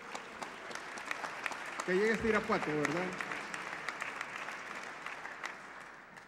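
An audience applauds an award winner at a lecture-series prize ceremony in Irapuato, a steady spread of clapping that runs throughout beneath a voice speaking Spanish.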